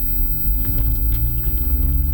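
A Jeep JK engine idles through an AFE Mach Force-XP exhaust with a deep, steady rumble, fairly quiet but carrying a noticeable bass tone, heard close and alone.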